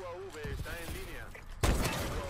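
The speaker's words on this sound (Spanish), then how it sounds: "Esos son los tiros que a mí me gustan" Gunfire in the video game Call of Duty: Advanced Warfare: someone talks at first, then a sudden loud burst of rapid shots breaks in and continues to the end.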